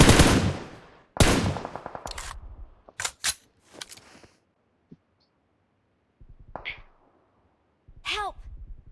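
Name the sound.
machine gun spray firing in a video game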